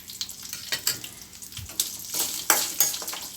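Ginger, garlic and onion sauté in a pan for radish chutney, crackling and spitting in uneven bursts of sizzle, close and moderately loud with no talking.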